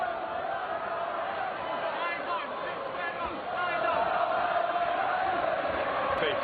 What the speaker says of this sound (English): The big cheer of the crowd.